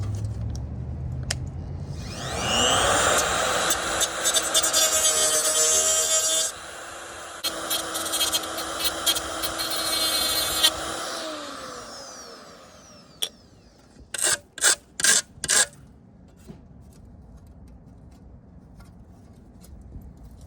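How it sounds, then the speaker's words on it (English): A power grinder whines steadily against metal points on a 1995 Camaro during an AC delete, a loud sustained grind of about eight seconds that spins down, followed by a few short sharp bursts. "So we're gonna grind those down a little bit."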